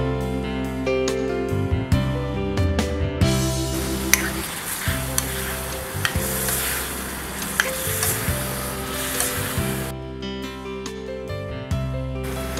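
Eggplant fries with turmeric, cumin and coriander powder in a pan, a sizzle heard beneath loud background music with rhythmic percussion, no talking.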